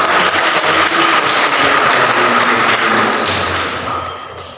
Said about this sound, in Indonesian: mari kita beri tepuk tangan dulu